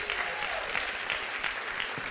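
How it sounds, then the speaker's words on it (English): A church congregation claps hands together, a steady wash of many overlapping claps held at moderate level for a couple of seconds with no talking on top. "Clap your hands like you're catching this."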